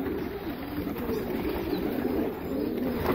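Racing pigeons coo in a low, steady murmur that runs throughout, a flock of birds heard close with no one talking over them.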